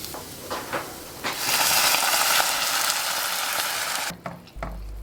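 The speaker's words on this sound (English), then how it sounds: "I will then add the boiled potatoes to it along with salt and turmeric and let it cook together." Boiled potatoes with salt and turmeric sizzle loudly in a hot pan, a steady frying hiss that swells after a few light clinks and cuts off sharply near the end.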